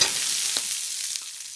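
Wild duck breast searing in a hot pan on the stove, a steady close sizzle and hiss that holds level throughout, with small pops breaking through now and then.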